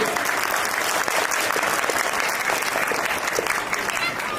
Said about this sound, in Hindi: आप जितने लोग मुझे सुन रहे हैं, एक बार तालियां मिलाकर सूचित कर दें कि आप मुझसे जुड़े।